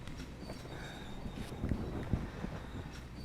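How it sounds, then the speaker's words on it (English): An airport train running on its rails, with a low rumbling roll and a few soft clicks and squeaks, moderately close and steady, with no talking. "This is the train to the airport, right?"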